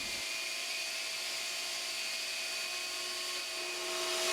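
A power tool shapes the glass fiber and epoxy coaming edge of a kayak, giving a steady high-pitched whine that holds nearly constant and swells slightly at the end, with no voices.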